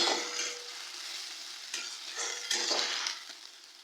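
Spice paste, with bay leaves already in the pan, frying and sizzling as it is stirred, a steady bright crackle that swells in a few bursts, close and alone.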